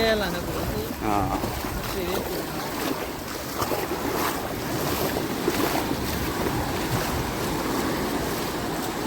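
Sea waves wash in with a broad roar mixed with gusty wind buffeting the microphone, while people talk over it.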